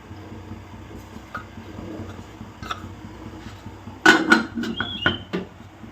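A metal pot lid handled while cooking idli: after quiet kitchen hum, a loud clatter and clinks of metal against the pot, then a few lighter rattles close by.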